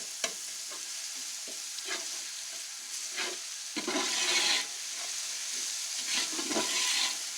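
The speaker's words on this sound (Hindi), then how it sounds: "इसको अच्छे से यहाँ पे मिक्स करना है" Onions are stirred and fried in a pan for roasted chicken kabuli pulao, with a steady sizzle broken by repeated scraping spoon strokes, close and moderately loud, and no voices.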